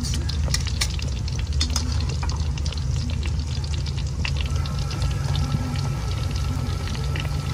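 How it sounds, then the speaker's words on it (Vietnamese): Fish cakes fry in hot oil, a steady crackling sizzle running throughout, punctuated by sharp spits and pops and soft kitchen clatter, with no talking. "Hai mẹ con mình chiên chả cá bán đi đây."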